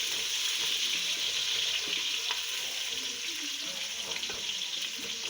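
Onions frying in a pan for a beef pulao, a steady broadband sizzle with soft stirring scrapes and faint clinks running continuously at moderate level, no voices.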